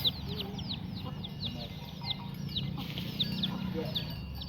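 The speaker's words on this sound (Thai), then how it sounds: "เวลาผู้สาวพัดข้าวนี่ไก่จะมากินเลย" Chickens cluck and call repeatedly at close range, coming in to eat rice as it is winnowed, over steady rural outdoor background noise.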